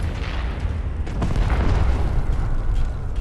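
Rocket launcher blasts in a Halo 4 match, deep booming explosions rumbling loud and continuous with low-end impacts stacking over one another.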